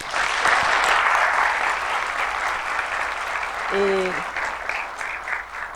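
A hall audience applauds former classmates at a public talk, a steady dense wash of clapping held throughout, with a brief spoken word and a short tonal sound near the end.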